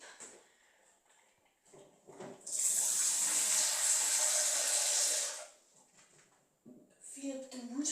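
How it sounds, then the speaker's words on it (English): Water from a kitchen tap rushes into a sink in a loud, steady stream for about three seconds before being shut off, with a person talking quietly before and after. "Now, take water into that drain. You want to put on cold"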